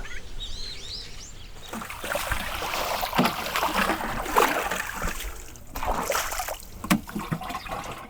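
A small stream flowing beside a farm field in early summer, gurgling and trickling close by at a moderate level, with faint bird chirps early on.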